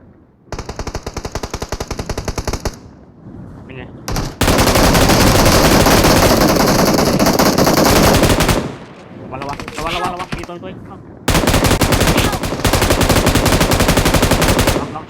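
Loud, close automatic gunfire from PUBG Mobile in long sustained bursts with short gaps, the rapid shots dominating throughout, with brief voices between volleys.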